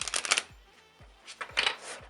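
A True Black tarot deck is shuffled by hand in two short riffling bursts separated by a pause, with soft card flutters and light thumps close by and no voices.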